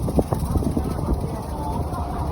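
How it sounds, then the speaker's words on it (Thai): A strong wind rumbles and buffets steadily close to the microphone, with a voice briefly audible over the continuous low roar. "ลมแรงมา"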